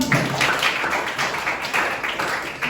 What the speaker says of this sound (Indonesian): Tepuk tangan untuk Jordan.